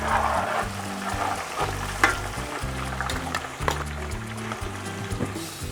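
Fish pieces frying in hot oil for a homemade pickle, a steady broadband sizzle with brief louder crackles and spits, close by, alongside a low repeating background tone and no talking.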